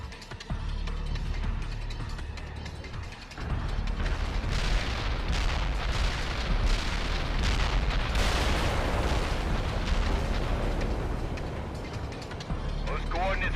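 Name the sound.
artillery barrage explosions in the video game World in Conflict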